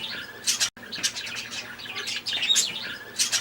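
Small caged ornamental birds such as lovebirds, cockatiels and finches, kept at a homestead, chirp and tweet in a busy overlapping chorus with occasional squawks, steady and fairly close.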